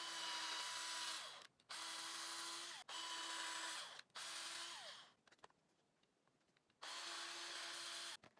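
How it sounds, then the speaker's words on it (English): A power drill whirs loudly in four long bursts with brief pauses while making a prop, then falls quiet for a moment before one more sustained burst. "Here's some more drilling ASMR."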